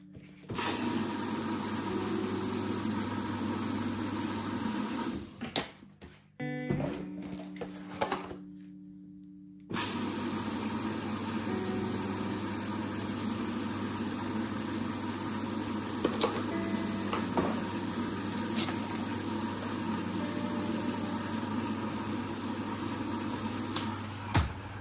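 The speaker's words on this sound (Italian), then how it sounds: "Mentre la lavatrice va, spero mi sentiate," A washing machine runs through a morning routine at home, a steady mechanical hum with a low vibration, briefly interrupted after about five seconds before the drone resumes and continues evenly to the end.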